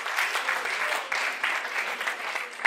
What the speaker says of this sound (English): Ladies, please, can you clap for yourself?